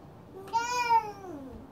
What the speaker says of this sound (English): Look at who I have, my cuddly kitten.